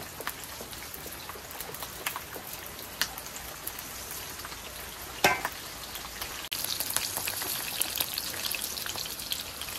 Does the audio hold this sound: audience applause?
no